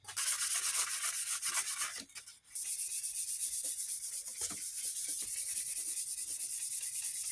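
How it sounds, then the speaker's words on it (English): Car body panel being sanded by hand with 600 grit sandpaper during a rust hole repair, a fast continuous rubbing hiss with a short pause near two seconds, close and steady, no speech. "I'm going to sand everything in 600."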